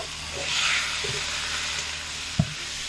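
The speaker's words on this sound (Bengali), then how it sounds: "এবার এর মধ্যে বুট ঢেলে দিচ্ছি সিদ্ধ করে রাখা বুট এর মধ্যে দিয়ে দেব" Boiled dried peas tipped into a hot, spiced pan for ghugni set off a loud, steady sizzle and hiss, with a short stirring scrape and a sharp clank from the pan.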